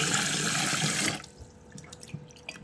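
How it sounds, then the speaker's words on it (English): Sea moss being washed in a bowl: a steady run of splashing tap water that stops after a second, then scattered drips and small wet sloshes as the moss is handled. "Give the Seamoss a good little wash."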